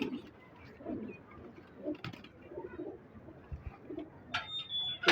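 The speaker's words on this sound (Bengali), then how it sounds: "এটা শীতের ফার্স্ট অতিথি কবুতর।" Pigeons coo in soft, low, repeated calls, with light rustling and shuffling close by and a sharp knock near the end.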